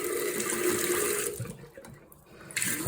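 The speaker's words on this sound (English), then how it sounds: "Okay, so the water's back on. You may get air coming out of this tap." Water runs from a shower tap that has just been turned back on after a valve change. It is a steady, close rush of flow that dips and sputters briefly before surging again.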